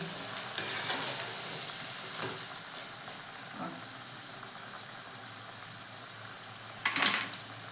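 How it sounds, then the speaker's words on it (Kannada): Kebab pieces fry in hot oil with a dense, steady sizzling hiss, close by, easing slightly before a sharp louder crackle near the end. "ಈಗ ನಮ್ಮ ಮಮ್ಮಿಯರು ಕಬಾಬ್ ಹಾಕಿದ್ರು ಎಣ್ಣೆ ಕಾದಾಯ್ತು"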